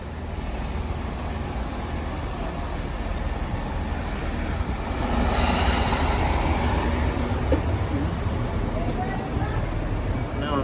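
A Class 165 Networker Turbo diesel train rumbles steadily for several seconds, with a broad continuous roar that swells slightly midway, heard up close at West Ealing station.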